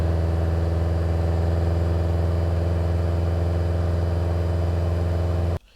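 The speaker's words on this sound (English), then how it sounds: "you'll notice there's obviously the sound of the exhaust, but you're also getting some road noise" Exhaust drones at a steady low pitch with a constant wash of road noise underneath, heard from inside a cruising car, then cuts off abruptly.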